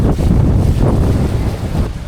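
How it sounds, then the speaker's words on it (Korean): Strong wind buffets the microphone in an open outdoor spot by a pool in Pattaya, a steady loud roar with gusty swells and no talking. "바람이 엄청 부네"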